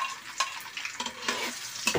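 Garlic and onions fry in a pan for chicken asado while being stirred, a steady crackling sizzle broken by several scraping strokes of the spoon, close and clear with no voices.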